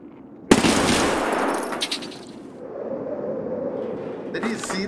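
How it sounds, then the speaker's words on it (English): A single sharp SKS rifle shot in Escape From Tarkov rings out loud and close, then trails off in a long rumbling echo, with a voice speaking during the decay. "Does he have an SKS? That was an SKS, right?"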